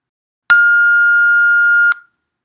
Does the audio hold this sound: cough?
no